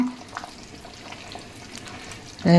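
Tempering for a chicken gravy is stirred in a pan, giving a faint steady sizzle and soft scraping, with a louder clatter right at the end.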